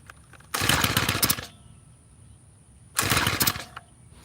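A garden tiller's small engine revs up in two short bursts of loud, rough chugging, separated by a quieter idle, heard close with no talk.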